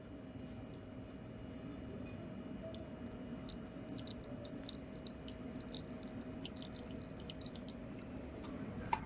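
Water drips and drains off salted cucumber prepared for a quick pachdi: faint, scattered tiny drips and ticks over a steady low hiss, with no talking.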